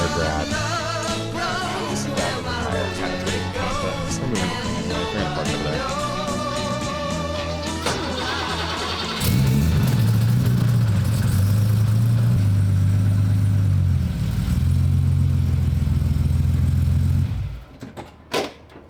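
BMW E30 engine cranking and catching, then settling into a loud, steady idle up close, following a stretch of music and garage noise before cutting off near the end.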